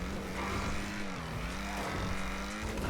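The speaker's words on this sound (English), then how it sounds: "This got a good engine noise too." A small custom-painted car in a video game idles and revs steadily, a continuous engine drone with a wavering pitch that holds loud throughout, with no talk over it.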